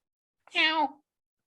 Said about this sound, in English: Was that a cat? Yes, my cat is in front of me.